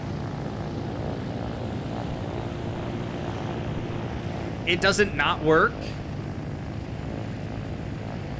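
A helicopter built from a private jet in the video game Trailmakers gives off a steady, droning engine hum throughout, while someone talks briefly over it midway.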